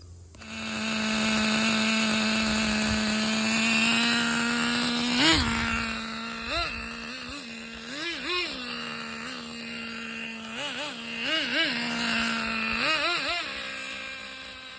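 A Thunder Tiger Tomahawk RC boat's single-speed nitro engine screams at a high steady pitch, close and loud, with repeated short revs and throttle blips.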